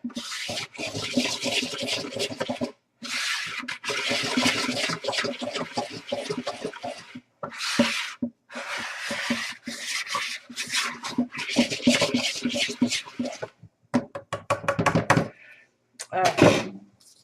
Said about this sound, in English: Now I am going to stir this around, just kind of incorporate everything.